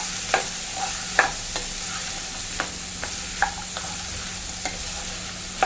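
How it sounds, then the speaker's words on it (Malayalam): Chopped tomatoes sautéing in a pan, a soft continuous sizzle broken by regular clicks and scrapes of a spoon stirring every second or so, close but fairly quiet, with no voices. "പച്ചപ്പ് ഒന്ന് മാറുന്നത് വരെ നല്ലപോലെ ഒന്ന് മിക്സ് ചെയ്തെടുക്കാം"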